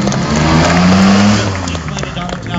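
A 1950s Jaguar XK 120 classic sports car at a Lake Constance vintage car show revs loudly up close, engine note rising then easing off, with an announcer speaking over it.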